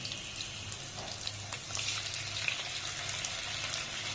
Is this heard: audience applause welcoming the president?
no